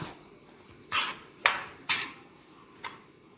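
Mango pickle ingredients are stirred in a vessel, giving four faint, brief scraping strokes at irregular intervals against a quiet background.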